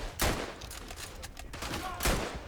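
Bolt-action rifle shots in the World War I shooter Verdun, two loud sharp cracks about two seconds apart over steady battlefield background noise.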